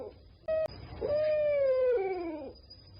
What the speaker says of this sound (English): It sounds like a dog whining.